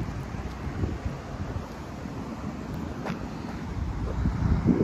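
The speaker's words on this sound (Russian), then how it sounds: "Ветер дует какой-то." Gusty wind rumbles across the microphone in a low, steady roar, swelling slightly toward the end, with no talking.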